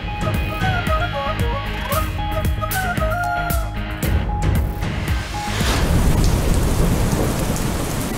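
Heavy rain pours during a thunderstorm in Khyber Pakhtunkhwa, a loud steady hiss that swells with rumbling thunder toward the end, with no talking.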